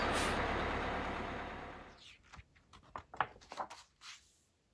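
A loud hiss of air brakes releasing on a bus, followed by a few scattered clunks and rattles as the hissing dies away.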